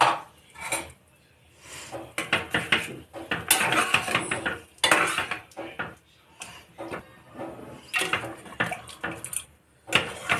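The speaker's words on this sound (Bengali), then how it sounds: "এটা একটু নাড়িয়ে চাড়িয়ে দেবো।" A utensil knocks and scrapes around a pot of chicken soup thickened with cornflour, irregular clinking bursts with short pauses between them, fairly close and alone without talk.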